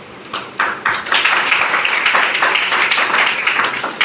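An audience at a talk on Ayurveda claps loudly and steadily for several seconds, the applause rising quickly and then holding as a dense patter.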